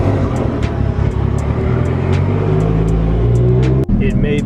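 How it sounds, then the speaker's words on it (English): Toyota 1JZ engine in a JZX100 Mark II cranks and fires up, settling into a loud, steady idle close by, with a brief sharp cut near the end. "And the 1JZ starts right up."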